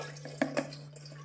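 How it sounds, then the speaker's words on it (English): Soaking water draining from strained raw mangoes while preparing spicy Goan mango pickle: a brief, faint trickle with a couple of soft drips close by. "Let the water drain properly."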